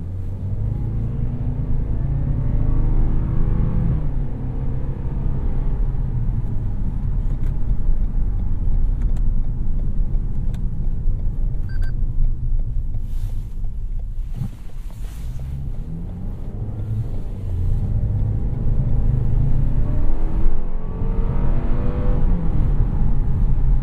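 A 2017 Lexus GS 200t engine hums smoothly while driving on the road, a steady low drone with faint road and wind noise, shifting pitch gently as the car changes speed.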